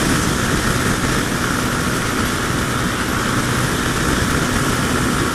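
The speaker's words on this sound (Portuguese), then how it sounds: "A motinha, ela anda bem. Ó, 130 de boa, 120. Anda bem pra caramba." A Honda CB300 motorcycle rides at around 120 to 130 km/h, giving a loud, continuous engine drone smeared with heavy wind rush that stays steady throughout.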